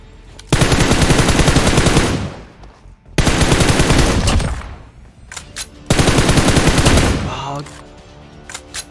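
Gunfire from the PUBG Mobile video game comes in three loud, dense bursts of rapid automatic shots, each a couple of seconds long, separated by brief quieter gaps.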